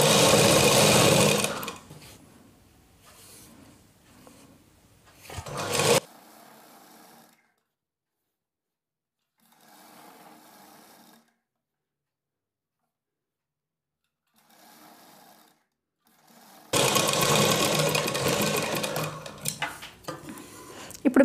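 A sewing machine stitches blouse fabric in short bursts, loud at the start and end with quieter brief runs and silent gaps between.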